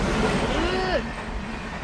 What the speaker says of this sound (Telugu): ఇదిగోండి ట్రైన్.